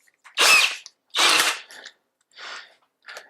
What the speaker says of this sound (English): So I will just install it in my drill.